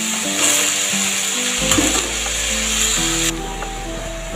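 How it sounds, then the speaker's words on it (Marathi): Chopped vegetables with moong dal hiss and sizzle steadily as they are stir-fried in a hot pan, with a few clinks of a spatula against the metal partway through. "मुगाची डाळ थोडी परतून झाल्यानंतर भाजी टाकायची। भाजी परतवून घ्यायची चांगली"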